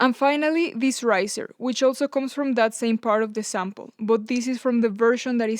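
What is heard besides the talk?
No everyday noises stand out.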